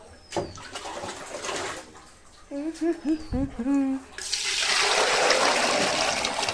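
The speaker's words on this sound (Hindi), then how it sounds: "इसमें पानी भर के रख देते हैं कहीं बाद में तक सूख ना जाए" Water pouring and splashing into a cooking pot left to soak after scrubbing, a steady rushing fill that rises loud and continuous at the end, with pigeons cooing briefly beforehand in a rural home during stormy rainy weather.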